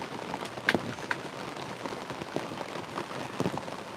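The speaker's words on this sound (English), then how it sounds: "You can hear the wind and rain." Wind and rain pattering on a hot tent during spring camping in Michigan, a steady soft hiss with scattered drop taps and gusty rustle, fairly faint and continuous, no voices.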